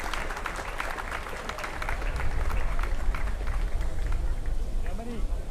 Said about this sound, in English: Big round of applause for this medalist in the men's quadruple sculls.